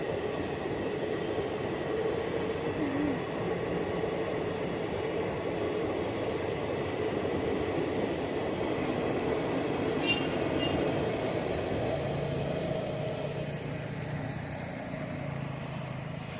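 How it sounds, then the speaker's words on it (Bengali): A passenger train rumbles steadily past for the whole stretch, a continuous low roar of wheels and carriages with no pauses. "দেখো কত প্যাসেঞ্জার যাচ্ছে ট্রেনে"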